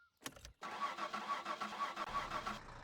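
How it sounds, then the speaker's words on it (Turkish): The diesel engine of a Hayosiko car in the game My Summer Car cranks briefly and catches. It settles into a steady, rhythmic, chugging idle, up close, with no talking over it. "Işıklar sönünce falan marş basıyoruz muhabbeti var mı?"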